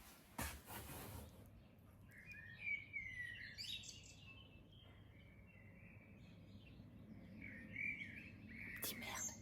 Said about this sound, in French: Petits merles, j'adore